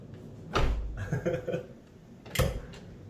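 The rear door of a 2005 Toyota Avanza 1.3 G, fitted with added sound dampening in the door and floor, shuts with a dull, muffled thud, then shuts again with a second thump; a voice briefly speaks between the closures.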